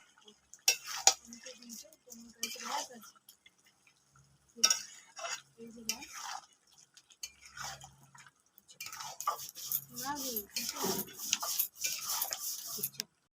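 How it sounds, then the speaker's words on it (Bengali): Coriander chicken with turmeric being stirred in a pan, heard as scattered clinks and scrapes of a spoon against metal in short bursts separated by quiet gaps, close by, with a busier run of clattering near the end. "ভালোভাবে নাড়াচাড়া করে নেব।"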